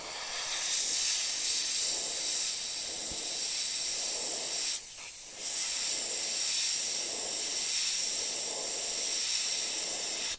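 An airbrush sprays white paint onto a Pathfinder skeleton knight miniature in a close, steady hiss that pulses gently, cutting off briefly midway before resuming.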